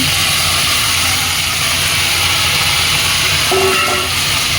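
Malabar spinach hits a hot cooking pan and sizzles in a loud, steady hiss that runs unbroken throughout, up close, with no talk.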